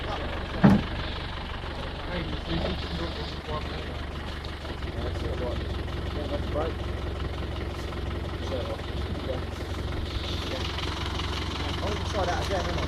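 A Suzuki Jimny off-road car idles with a steady low rumble as it rolls forward and back on a track. The engine hum continues throughout, with voices talking over it and a brief knock near the start.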